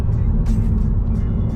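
A Hondata-tuned 2022 Honda Civic drives with a steady, loud low engine drone and road noise that fill the whole moment, close and constant, without a clear rise or fall.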